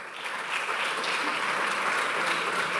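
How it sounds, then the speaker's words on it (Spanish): A large crowd applauds as the new FC Barcelona basketball signings come onto the stage, a dense, continuous roar of clapping that swells slightly and stays loud and even throughout. "per tots nosaltres els demanaria un fort aplaudiment"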